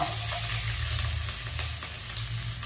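Chopped onion frying in a hot pan as the first step of pancit canton with beef and shrimp, a loud, steady, dense sizzle that runs unbroken throughout with no talking.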